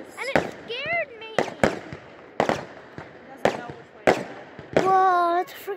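Fireworks burst repeatedly at night, sharp booming cracks every second or so, while excited voices shout and cheer between and over the explosions.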